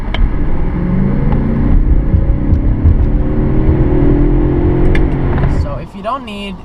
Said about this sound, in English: For a car as large as the 7 Series, this thing does accelerate astonishingly fast.